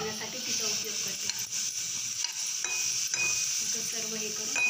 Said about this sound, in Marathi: कांदा भाजताना मी याच्यामध्ये थोडंसं तेल टाकत आहे, म्हणजे छानपैकी कांदा असा क्रिस्पी होतो